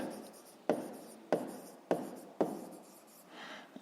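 Pen or pencil writing by hand on paper while a maths exercise is worked out, four sharp strokes close by in an uneven rhythm, then a softer scratching at the end, with no talk.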